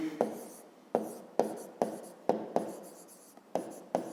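Pen writing a math solution on paper: a series of about nine short, distinct scratching strokes in an irregular rhythm, close and fairly quiet, with no talk.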